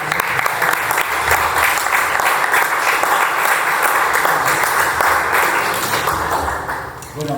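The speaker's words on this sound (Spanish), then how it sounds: "Para él, un fuerte aplauso." Sustained, dense applause from an audience at a cultural tribute event in honour of poets, steady and loud throughout before tapering slightly at the end.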